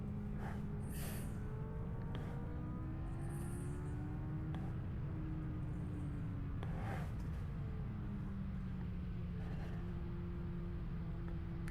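Car driving, heard from inside the cabin as a steady low road and engine rumble that never lets up, with a few breathy snorts and small mechanical clicks over it and no speech.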